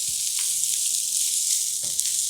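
Already-cooked ground turkey sizzling and frying in a hot pan, a steady close crackle with faint stirring scrapes, no voices.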